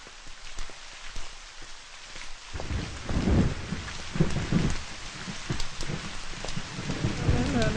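Rain pours steadily on the ground while low rumbles of thunder roll underneath, the downpour growing heavier and fuller after the first few seconds, with no voices.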